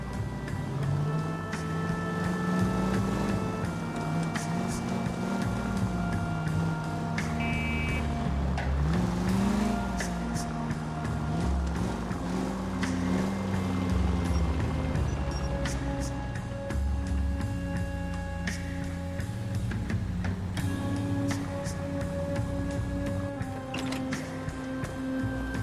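Car engine in the L.A. Noire video game, a steady droning hum with shifting pitch as the vehicle is driven, continuous and fairly close, with faint music or ambience layered underneath and no talking.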